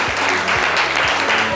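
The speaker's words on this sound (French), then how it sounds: "On peut s'applaudir très très fort." A studio audience at a French live show claps loudly, a dense steady wash of many hands with faint low tonal sounds beneath.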